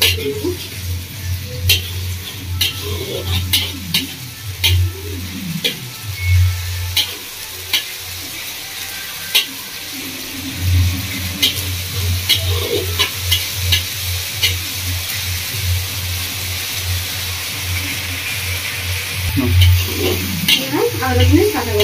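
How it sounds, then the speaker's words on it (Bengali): Ginger garlic paste for prawn curry fries in a pan with a continuous sizzle, while a spatula scrapes and clinks against the pan in repeated stirring strokes, close and loud. "আদা রসুনটা খুব ভালো করে কষিয়ে নিয়েছি"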